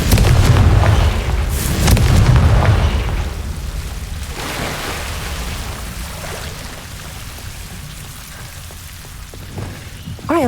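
Confringo fire spell blasts in Hogwarts Legacy, a loud deep booming explosion at the start with a second rumbling burst around two seconds, then a long fading crackling tail and a fresh blast at the end.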